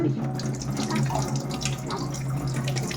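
Tap water runs steadily into a sink while fish are washed, a close, continuous splashing flow with faint handling sounds.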